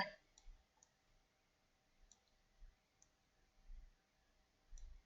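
A computer mouse clicks quietly in several short pairs of sharp ticks, spaced a second or so apart, over faint low background rumble.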